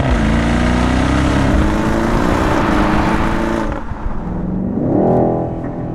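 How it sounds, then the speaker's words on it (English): A 2020 BMW X6 M50i with its V8 revs hard, a loud sustained exhaust roar that drops briefly and swells again near the end, heard alone without talk. "one of my favorite things about this car is the exhaust note"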